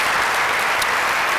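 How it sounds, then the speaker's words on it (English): A big audience at a 2018 honors ceremony breaks into applause for a committee, a dense, steady wash of clapping that fills the whole moment at full volume. "Could you give that committee, and especially the two assistants, a huge round of applause?"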